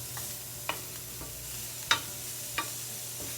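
Onions cooking down in a pan for a crab frittata make a soft, steady sizzle, with three or four sharp spoon taps against the pan standing out clearly.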